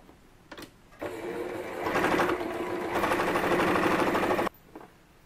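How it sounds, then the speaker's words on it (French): Sewing machine stitching the side seam of a ruffled dress at 1 cm from the edge: a steady close mechanical whir and rapid needle rattle for about three and a half seconds, starting and stopping cleanly. "je viens faire une couture à 1 cm du bord, et ensuite je vais venir faire un surfilage en couture fermée"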